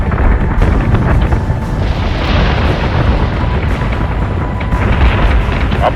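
Battleship batteries in Battlestar Galactica Deadlock fire in a continuous, heavy barrage. Loud booms and blasts overlap into a rumbling wall of sound that lasts several seconds, with no pauses between the shots.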